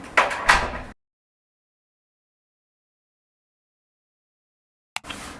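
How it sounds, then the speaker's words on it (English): A door is closed nearby with a brief shuffling rush of movement that ends in a soft thud. A long silence follows, then a short knock or click. "Just gonna close the door."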